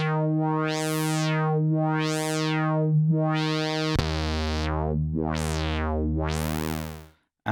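Yamaha CS01 monophonic synth with its 12 dB filter resonance switched to high: repeating sweeping, whistling filter swells over a steady held tone, the pitch dropping lower halfway through, moderately loud and alone.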